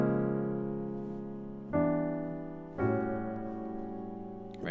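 Solo jazz piano plays the closing phrase of an arrangement: a sustained chord that fades and is then restruck twice with fresh attacks, each ringing out and decaying. The piano is heard alone, without talk.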